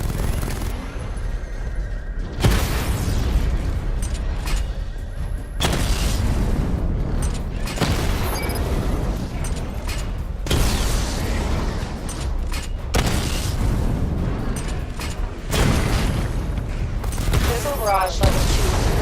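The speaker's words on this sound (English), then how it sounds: "Charge the missile barrage to level 2 to destroy up to 4 targets at once" Missile barrage explosions from Batman: Arkham Knight's Batmobile, a dense run of booming blasts and rattling bursts in loud clusters broken by brief lulls, with heavy low rumble throughout.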